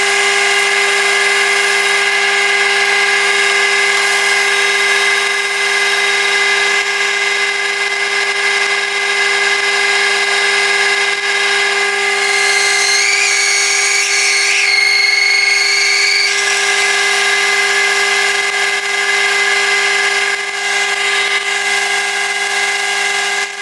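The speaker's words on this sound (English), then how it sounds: "I'm just going to drill the pilot hole through first. This is a 13mm drill." A steady, loud machine whine with a high ringing tone runs unbroken throughout as a 13mm drill bores a pilot hole through metal, with no talking.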